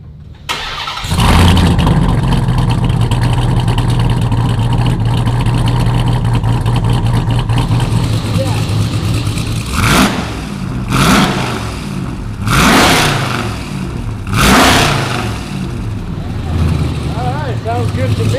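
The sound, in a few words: Hellephant V8 engine swapped Ram TRX truck first start revving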